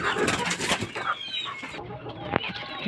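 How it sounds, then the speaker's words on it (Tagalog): Young chicks on a farm cheep in a continuous, busy chorus of high, thin calls, close by and fairly loud, with some rustling and faint fowl sounds mixed in and no speech. "Dito naman itong mga sisiw."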